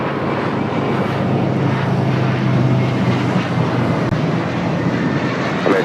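A plane takes off from runway 25 Right at LAX, giving a loud, steady, close engine roar that holds for the whole stretch with no voices.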